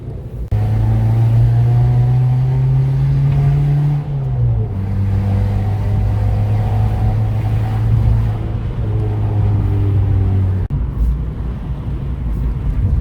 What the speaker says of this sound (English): The Fiat Pop is now straight piped and it sounds so good.